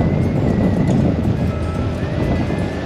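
A Yamaha XMAX motor scooter rides along a road on a touring trip, its engine droning loud and steady with constant wind and road rumble close to the microphone.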